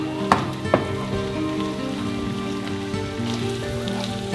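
A handful of prawns cooking in a pan of garlic butter, giving a steady, dense sizzle with a couple of sharp pops near the start, close and moderately loud, with no voices.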